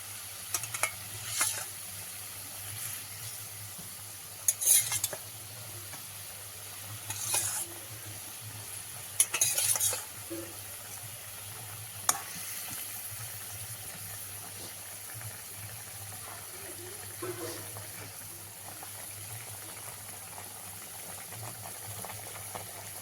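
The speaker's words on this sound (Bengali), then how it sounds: "ঝোলটা ফুটিয়ে উঠেছে এবার আমি মাছগুলো একে একে দিয়ে দেবো" Fish pieces go one at a time into a boiling curry broth in a pan, heard as a soft continuous simmer with several brief clinks and splashy bursts as each piece drops in, no talking.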